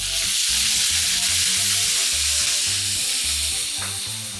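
Chicken, peppers and onions sizzle loudly in a pan after lime juice is added for fajitas: a dense continuous hiss and crackle with a low background hum, steady throughout with no voices.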